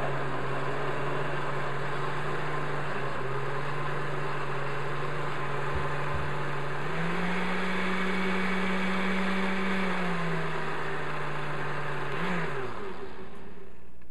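A blender mixes hot water with non-instant milk powder, giving a loud, continuous motor whir that climbs in pitch midway, settles back, then winds down near the end, with no voices.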